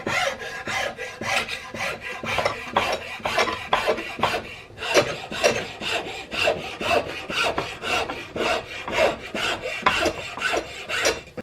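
A file rasps over the wooden cheek rest of a CVA Hawken rifle stock in loud, close, rhythmic strokes, a fast series of gritty scrapes with one brief pause partway through.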